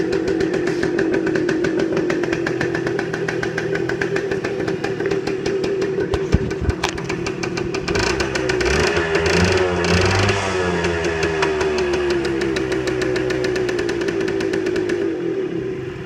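A 1978 Suzuki TF 100 motorcycle engine idles steadily up close, a continuous buzzing putter that holds an even loudness and roughens slightly partway through.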